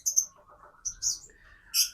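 Caged songbirds, sogon and masteran, chirp in short high bursts: a couple of twittering calls at the start, more midway and a bright burst at the end, with a faint lower warble running between them.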